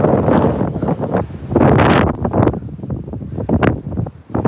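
Gusting wind on a woodland walk with dogs in Edinburgh, roaring hard across the microphone in loud, uneven bursts that swell and drop over a few seconds.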